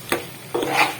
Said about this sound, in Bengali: এবার আমি জাগেরি পাউডারটা মিশিয়ে নিয়ে মিক্সড করে নামিয়ে দেব।